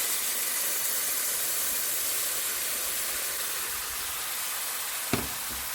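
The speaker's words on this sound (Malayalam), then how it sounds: "പയറ് വേവിച്ചപ്പം അല്പം മിച്ചം വന്ന് ആ വെള്ളം ആദ്യം ഒന്ന് ഒഴിച്ചു" Leftover red kidney bean cooking water hisses and sizzles steadily in a hot pan for a Kerala-style stir-fry, a close, even broadband rush with a single clink near the end.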